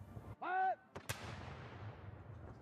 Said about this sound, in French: Une cérémonie rituellement marquée par 41 coups de canon tirés depuis Green Park.